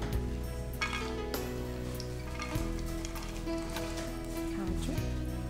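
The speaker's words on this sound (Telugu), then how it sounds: "కాజు కిస్మిస్ ఓకే రెండు ఒకేసారి ఫ్రై చేసేస్తున్నారు" Cashews and raisins frying together in hot ghee for semiya payasam, a steady crackling sizzle with a few clinks from a spoon or pan and some talk in the background.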